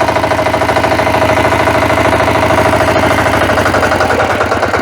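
A machine's engine runs loud and close while the machine drives, a continuous mid-pitched rumble with a rapid pulsing throb, steady from start to finish.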